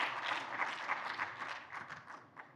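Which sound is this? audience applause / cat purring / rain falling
audience applause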